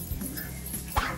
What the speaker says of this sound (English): But don't you bark at me.